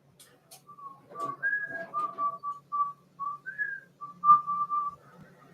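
A person whistles a wavering, tuneful melody of short held notes and slides, fairly close and clear, during a live tabletop games show, with faint low background hum and no talking over it.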